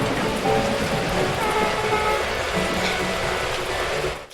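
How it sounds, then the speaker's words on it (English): Torrential rain pours down in the video game Beacon Pines, a dense, steady hiss of heavy rainfall that stays loud throughout before fading at the very end. "At that moment, the heavens opened up, unleashing torrential rain."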